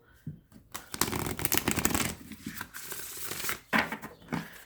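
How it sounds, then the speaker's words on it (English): Close riffling and slapping of tarot cards being shuffled, a dense crackling flurry followed by a few shorter bursts, no speech. "Bear with me while I shuffle."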